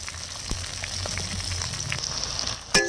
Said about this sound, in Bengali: এবার এই যে 5 ফোড়ন দিচ্ছে।